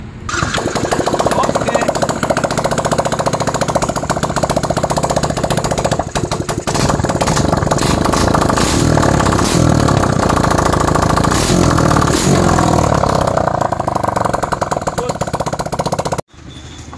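A Yamaha Sniper MX135 motorcycle with a replaced block and head turns over on its stock starter and fires, the engine running loud and rough with rapid revving pulses before cutting off abruptly; a brief spoken word is heard.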